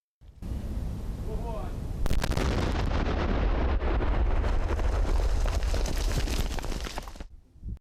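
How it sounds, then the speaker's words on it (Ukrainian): A loud, sustained roaring blast as TNT charges detonate two large-calibre artillery shells, rumbling and crackling for several seconds before fading, with no speech. "Щоб підірвати два великокаліберні снаряди, сапери використовують тротилові шашки."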